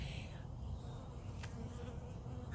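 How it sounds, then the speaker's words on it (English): A honeybee buzzing close by outdoors in a garden, a steady low droning hum that holds throughout the short moment, fairly near and continuous. "Do you see this little honeybee that just came and landed by me?"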